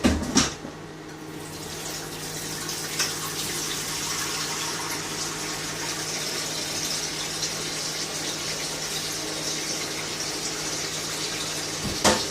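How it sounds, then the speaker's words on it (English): Tap water runs steadily into a sink while a couple of plates are washed under it, a close continuous hiss with a few clunks of crockery at the start and end. "I'm just washing a couple of plates up"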